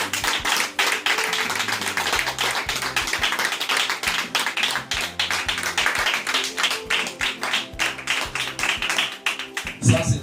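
Rhythmic clapping from a church congregation acclaiming Jesus, steady beats mixed with tapping and accompanying music, continuous and moderately loud, with some voices faintly mixed in.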